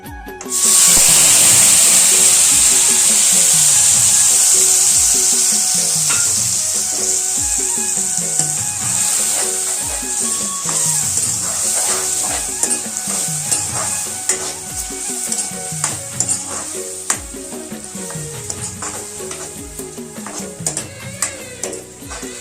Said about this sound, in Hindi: तेल गरम हो गए। अब ये मसाला ला उमें कलोना है तेल के साथ।